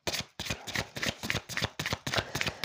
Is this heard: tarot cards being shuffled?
yes